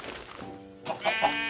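A sheep bleats in a video game: brief, close bleats with strong harmonics rise out of a busy background of game noise.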